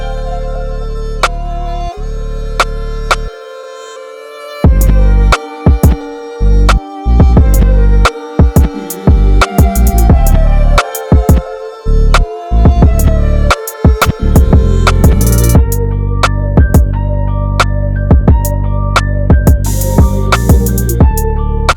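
A remade trap beat plays loud and dense, with deep bass, punchy drums, crisp hi-hats and a melodic synth line, briefly thinning out before the full groove drops in.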